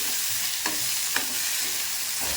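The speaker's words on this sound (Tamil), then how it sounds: "அது மேலே வர்ற மாதிரி கிளறி வச்சுக்கணும்" Broad beans and onions fry in a pan with a continuous loud sizzle, broken by a couple of soft spatula scrapes as the mixture is turned over; no voices.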